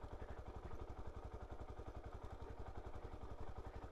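Suzuki DR-Z4S motorcycle engine running steadily under load while riding, a loud, close, rapid pulsing thrum with mechanical clatter that holds constant throughout, with no talking.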